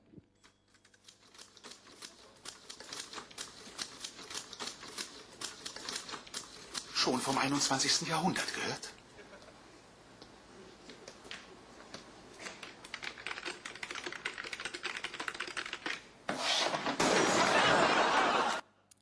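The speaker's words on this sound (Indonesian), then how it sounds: "Seperti seorang gadis yang mengetik di kantor ini." Typewriter keys clatter in an office in rapid, uneven bursts, with a louder stretch of dense typing partway through and again near the end; a voice speaks briefly over the typing.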